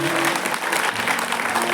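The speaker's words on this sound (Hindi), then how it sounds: "एक बार जोरदार तालियां इनके नाम पर बजाइए।" Audience at a Ram Katha recital at a cow shelter clapping loudly and continuously, a dense close burst of applause.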